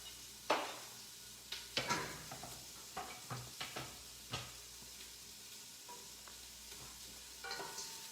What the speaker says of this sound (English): you just get that onion in the pan